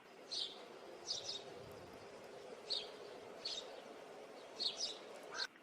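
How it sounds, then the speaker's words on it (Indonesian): Short bird calls repeat at irregular intervals, a few quick chirps at a time, faint over steady background noise with no one talking. "ini adalah suara burung"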